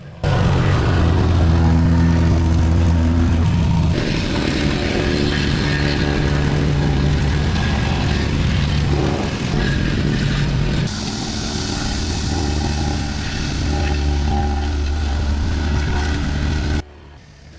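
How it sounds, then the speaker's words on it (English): Vibratory plate compactor consolidating a soil and gravel layer on a house construction site, a loud continuous engine drone with steady vibrating rumble that shifts slightly in pitch partway through, then cuts off at the end. "I am operating a vibrator plate compactor to firmly consolidate the soil and gravel layer"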